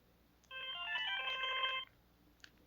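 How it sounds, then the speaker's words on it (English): Flip phone powering on plays a short, cheap-sounding electronic chime of stacked tones lasting just over a second, followed by a faint click. "Even the power on sound effect sounds really low grade."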